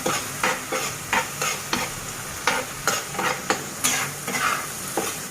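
Spiced masala with tomato stir-fried in a pan for a dried loitta fish bhuna: a spatula scrapes and stirs in a steady rhythm of separate strokes over a soft, constant sizzle.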